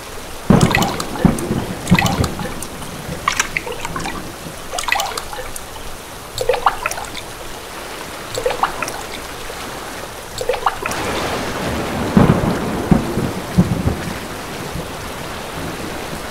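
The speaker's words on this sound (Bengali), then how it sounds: "কাকা, বৃষ্টি আজ থামবে না মনে হচ্ছে।" Heavy rain pours steadily through a cartoon thunderstorm, with rumbling thunder and sharp cracks breaking in repeatedly over the constant downpour.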